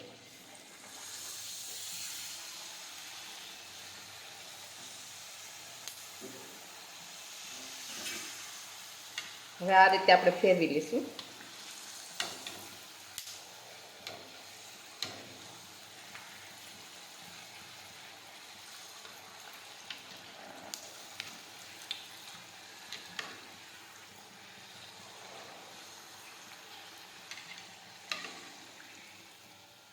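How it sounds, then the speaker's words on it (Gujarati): Oil sizzles steadily as wheat-flour khakhra fry in hot oil, with occasional clinks and stirring sounds and a voice speaking briefly over it. "હવે આપણે તેમાં ખાખરા તળી લઈશું"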